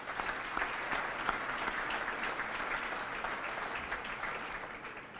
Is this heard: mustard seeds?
no